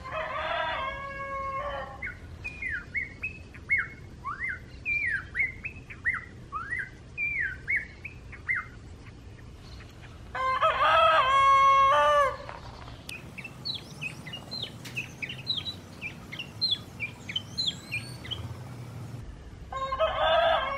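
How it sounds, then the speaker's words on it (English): A rooster crows repeatedly in the early morning, several loud, drawn-out cock-a-doodle-doo calls close by, with small birds chirping and tweeting steadily in the background between crows. "Good morning, Mr. Rooster."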